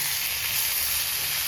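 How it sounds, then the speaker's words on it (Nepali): Potatoes frying in a pan in a home kitchen give a steady, close hissing sizzle with no pauses, and no one speaks. "म आलु फ्राई गर्दैछु"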